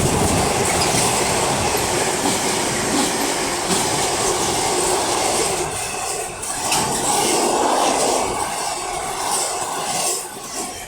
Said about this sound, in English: And then we have a DB Cargo UK Class 66, 66053.